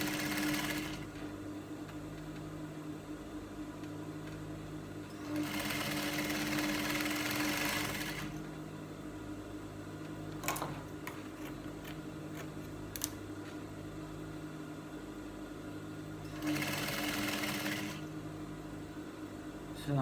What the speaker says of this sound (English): I'm still going forward to sew the belts.